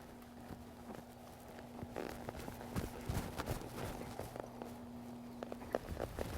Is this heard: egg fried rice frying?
no